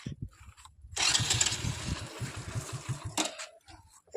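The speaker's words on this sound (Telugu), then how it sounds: "స్టార్ట్ అయితే లేదు బండి." A motorcycle's engine is cranked for a couple of seconds with a rough, churning whir that fails to catch and dies away, close by, with quiet low sounds before and after.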